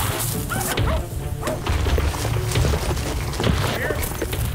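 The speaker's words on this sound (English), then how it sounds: "they're barking big time up ahead" Hunting dogs on a hog hunt bark repeatedly up ahead, a dense run of barks with rustling and footsteps nearby as people talk over them.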